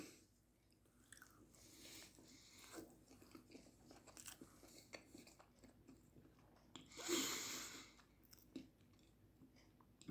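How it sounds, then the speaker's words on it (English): Close-up crunching bite into a grilled cheese French toast sandwich, Monte Cristo style, followed by quiet chewing, with one loud crisp crunch standing out in a quiet room. "I don't know if you hear the crunch, but it is amazing"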